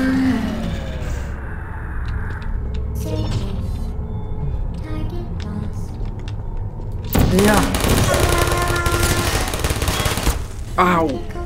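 Gunfire from the video game Portal: sharp bursts of shots arrive in clusters during the second half, loud over a busy game background, while someone talks and yelps between them.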